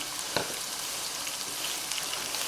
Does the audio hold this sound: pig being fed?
no